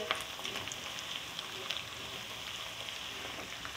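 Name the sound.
spices frying in a pan for shami kabab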